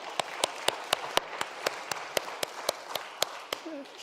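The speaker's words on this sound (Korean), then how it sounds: "우리 수고하시는 교사님들 위해서 우리 박수 한번 치도록 하겠습니다." A congregation claps for the teachers during a Korean Sunday church service, about a dozen sharp, evenly spaced claps in a steady rhythm, with a brief voice at the end.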